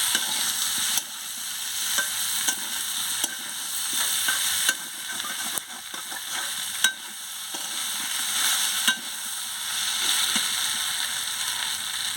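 Pointed gourd and potatoes sautéing in spiced oil in a pan, with a steady loud sizzle and repeated scraping stirs of a spatula at regular intervals.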